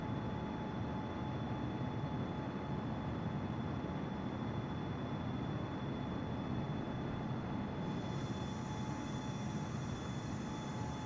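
A Boeing 777F airliner's engines in Microsoft Flight Simulator on Xbox Series X make a constant, even drone with a faint steady whine above it, unbroken and without any voices.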